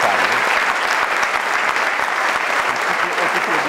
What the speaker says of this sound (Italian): a entrambi farei un saluto speciale e un applauso di benvenuto.